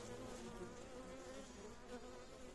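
An attacking honeybee near a tarp-covered beehive during a hive change gives a continuous, steady buzz, soft and low in level throughout, with no voices.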